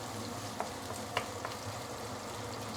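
Ginger, minced garlic and shallot frying in a pan for braised chicken, a steady soft sizzle with a few faint clicks of stirring, no voices.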